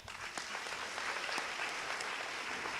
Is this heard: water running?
no